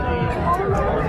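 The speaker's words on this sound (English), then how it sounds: "Kind of stuck in a crowd of people here." A dense crowd of people chatters all around in a steady overlapping babble of many nearby voices outdoors.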